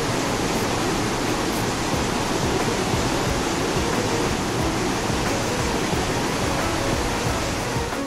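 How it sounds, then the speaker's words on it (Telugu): Godavari river water rushing through the Kaleshwaram Project, a loud unbroken roar of churning flow that holds steady from start to finish with no pauses. "జలజలా జారుతున్న నీటి సవ్వడి వినసొంపుగా ఉంది."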